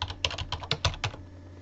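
Computer keyboard keys clicked in a quick irregular burst of about ten presses, close and crisp, then falling quiet.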